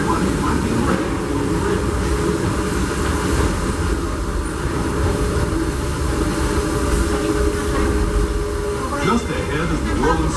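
Disneyland Railroad steam train led by engine Fred Gurley No. 3, ridden aboard: a constant loud rumble of rolling cars with clickety-clack of wheels, and indistinct talk mixed under the train noise.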